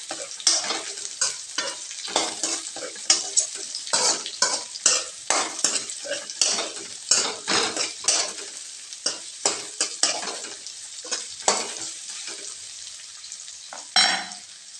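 Ridge gourd pieces stirred and fried in hot oil for a Marathi-style vegetable dish, with a spoon scraping the pan in a steady run of close, quick strokes over constant sizzling, no voices.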